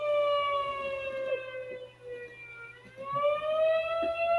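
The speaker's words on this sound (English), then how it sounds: "That's that weekly test they do every Wednesday at 12 o'clock. Yeah, That tornado siren." An outdoor tornado siren sounding its weekly noon test, a loud rising and falling wail with harmonic tones, steady and distant-carrying, dipping in the middle before climbing again.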